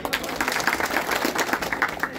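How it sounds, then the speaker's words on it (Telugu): Audience applause at a Kurumba community meeting in Telangana: steady, dense clapping from a crowd, moderately loud and sustained throughout with no pause. "అవపడుతున్నాయంటే గట్టిగా చప్పట్లు కొట్టండి."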